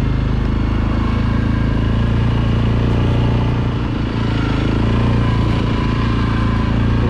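An ATV running along a smooth, groomed off-road trail near Kalkaska, Michigan, its engine a constant close rumble with slight throttle changes and no talk.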